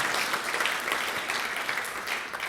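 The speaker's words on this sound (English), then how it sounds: "give him a round of applause" A forum audience applauds a guest speaker, a steady sustained patter of many hands clapping, moderately distant and even in level throughout.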